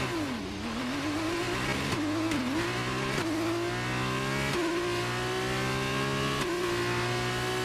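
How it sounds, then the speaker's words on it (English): A high-pitched Formula 1 car engine in a video game revs and holds steady at a loud, buzzing whine, with brief dips and surges in pitch as the throttle is blipped. "Let's build the revs up and hold them."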